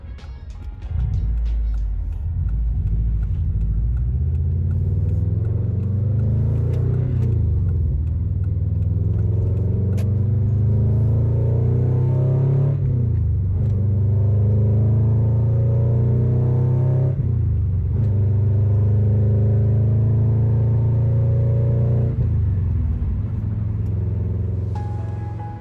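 A car cruises along a highway on a long cross-country drive through Nebraska and Missouri. A loud, steady low interior rumble of engine and road noise carries on throughout with slight shifts in pitch.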